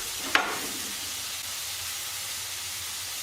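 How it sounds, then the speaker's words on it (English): A quick burst of hiss as food hits a hot pan, then a steady low sizzle continues quietly. "Ooh, you can hear that sizzle."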